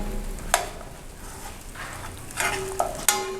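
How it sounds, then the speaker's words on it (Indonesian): Shrimp paste and a little palm sugar sizzle quietly in a hot pan while a utensil stirs and scrapes, with a few sharp clinks against the metal. "Kita tumis, terasi sudah oke, dan kita tambahkan gula merah sedikit."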